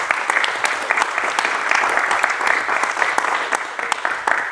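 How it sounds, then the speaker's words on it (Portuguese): A church congregation in Hamilton applauds steadily for several seconds, a dense, even wash of clapping with a few sharper claps standing out near the end. "Vamos dar uma salva de palmas para a vida deles?"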